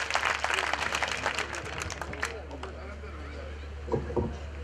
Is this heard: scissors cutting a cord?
no